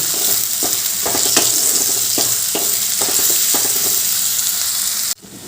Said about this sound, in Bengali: এবার দিয়ে দিলাম এক চামচ নুন যাতে পেঁয়াজটা তাড়াতাড়ি নরম হয়ে যায় আবারও ভালো করে ভেজে নেব